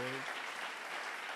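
A church congregation breaks into dense, steady applause honouring a sister. A brief voice is heard at the very start before the clapping fills the room.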